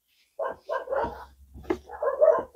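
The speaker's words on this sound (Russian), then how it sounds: "Собачки." Several dogs bark and yip in a residential courtyard, a rapid run of close, loud barks with a low hum beneath and a voice mixed in.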